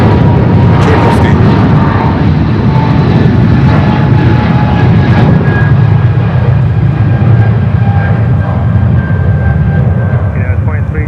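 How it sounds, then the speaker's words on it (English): A Boeing 777 roars steadily while taking off from runway 22 right at Newark Liberty International Airport, a loud, continuous jet rumble heard from a distance throughout. "We have a 777 taking off currently on 22 right"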